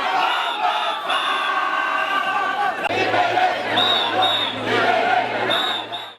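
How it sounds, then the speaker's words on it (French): An overexcited crowd shouts and cheers at the arrival of Bamba Fall and his companions at the courthouse, a loud, dense mass of voices with whoops rising over a steady roar. "Une foule surexcitée à l'arrivée de Bamba Fall et compagnie à la cave du palais de"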